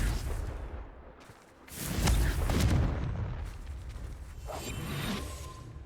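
A Confringo fire spell from Hogwarts Legacy goes off with a whoosh and a deep, rumbling boom that swells and then fades into a long, noisy tail, with no voices.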